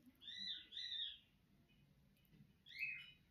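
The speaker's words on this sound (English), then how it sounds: "You hear that bird calling for me?" A pet budgie calls in a few bright, chirpy bursts at moderate distance, two close together and then one more after a short pause, over faint background noise with no talking.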